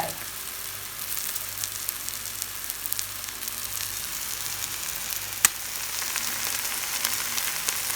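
Chopped wild garlic leaves in beaten egg frying in a pan, a steady close sizzle and crackle with faint spitting and one sharp tick midway.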